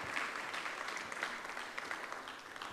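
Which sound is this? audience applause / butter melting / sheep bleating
audience applause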